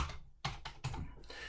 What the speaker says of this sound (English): I just started typing in end joint, I retrieved my comment